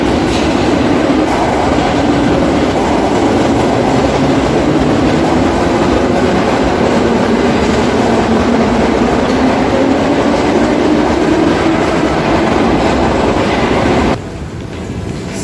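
Electric commuter trains rolling past a station platform near Peterhof, a loud, continuous roar of wheels and carriages with rhythmic rail clatter, cutting off abruptly near the end.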